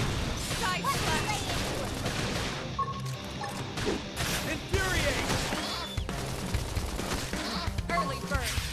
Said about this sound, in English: Topple him with some gunfire!